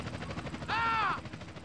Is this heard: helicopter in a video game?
yes